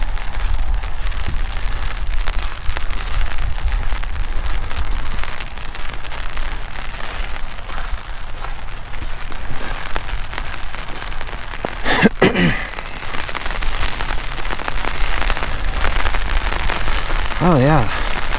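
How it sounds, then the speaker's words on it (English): Heavy rain driven sideways by strong wind pours in a steady, loud broadband wash with gusting wind, close to the microphone, while a person talks briefly over it. "it's basically raining sideways right now."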